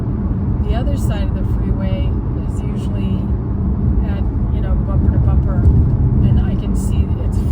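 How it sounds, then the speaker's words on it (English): Steady freeway traffic at rush hour, unusually light, with a continuous broadband roar of passing cars and a low engine rumble, likely heard from inside a moving vehicle, slightly louder near the end. "So this is rush hour traffic."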